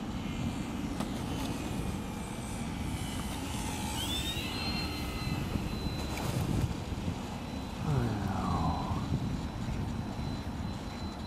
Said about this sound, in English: That's a little plane.